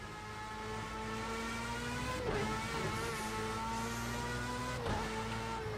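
A racing car engine in third gear in Project CARS 2 drones steadily and close, its pitch rising and dipping slightly with throttle changes, alone without talk.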